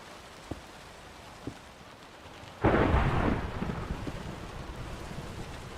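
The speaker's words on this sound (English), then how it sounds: "I'm pretty sure this is a thunderstorm." A Minecraft thunderstorm with rain falling: two faint clicks, then a sudden loud thunder crash that rolls and fades into steady rain.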